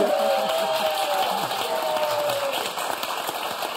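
A studio audience on the French game show Motus applauds two contestants with a dense, steady wash of clapping that holds at an even level throughout. A thin sustained tone runs through the applause.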